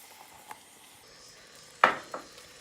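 Soft sizzle of translucent onions frying in a pan as flour goes in for chicken pot pie, with a faint tap early and a sharp utensil clink against the pan followed by a smaller knock, no talk.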